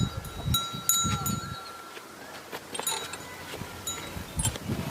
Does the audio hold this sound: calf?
yes